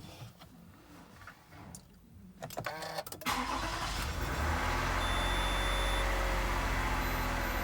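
A Toyota Highlander with the 2GR-FE engine, 150,000 km on it and noted for knocking when cold, cranks with a few rapid bursts, then catches and settles into a loud, steady run close by.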